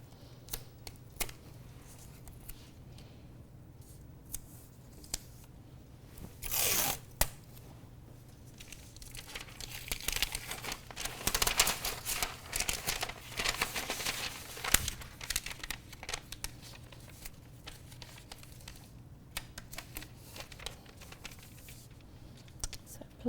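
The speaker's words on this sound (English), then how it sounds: "so I'll pop some masking tape on." Masking tape torn from a roll and pressed onto pattern paper while a sewing pattern is traced, heard as close crinkling, tearing and rustling bursts with light handling noise.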